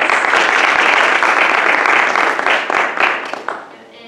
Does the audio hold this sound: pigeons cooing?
no